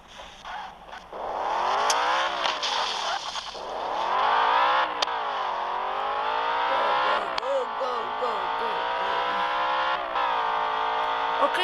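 A car in a driving simulator game revving and whining through a drift, engine pitch rising and falling in long sweeps, with a person briefly speaking over it.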